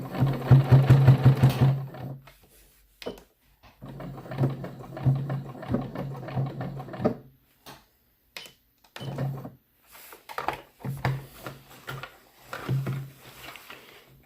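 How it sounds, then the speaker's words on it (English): Sewing machine stitching a down throw underquilt in short bursts of rapid mechanical chatter, fairly close, with pauses and brief handling noises between runs. "It's not the prettiest sew job, but I know it's not going to go anywhere."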